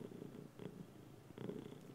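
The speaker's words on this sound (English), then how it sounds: "You're so loud. He's a very happy cat." A contented cat purrs softly and close, a quiet rhythmic rumble that swells and eases in several breaths with no voices over it.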